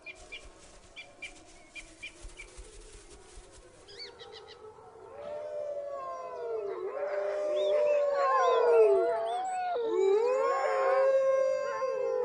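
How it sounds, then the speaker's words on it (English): Wolves in the wild around Plitvice howl as a pack, long wavering howls rising and overlapping after some quieter rustling and scattered bird calls at the start. "Wolves howl to establish the extent of each pack's territory and to avoid unnecessary conflict."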